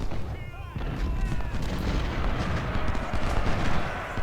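Gunfire and artillery from the Civil War strategy game Ultimate General: Civil War rumble in a dense, continuous battle din, with a voice speaking over it near the start.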